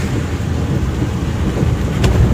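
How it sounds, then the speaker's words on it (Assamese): Loud, steady rumble of rain and wind buffeting while moving, dominated by low roar with a constant wash of hiss; no voices. "বৰষুণ দি আছে যে স্পীড ইমান চলাব নোৱাৰোঁ"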